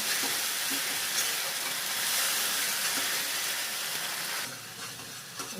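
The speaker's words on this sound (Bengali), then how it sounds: "দেখো তেলে এটাকে সুন্দর করে আমি কষিয়ে নিচ্ছি।" Spice paste fries in oil with a dense, steady hiss and sizzle at close range, dropping in level near the end with faint stirring.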